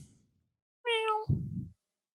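A cat gives one clear, tonal meow of about half a second, followed at once by a lower, rougher vocal sound, in a quiet room with no talk.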